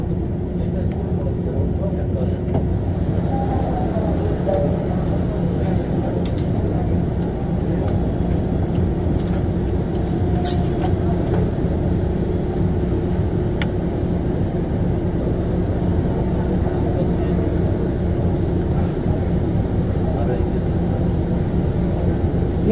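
Sillim Line light rail train in Seoul, running between stations, with a steady low rumble of the moving car heard from inside, a faint tonal hum, and occasional brief clicks.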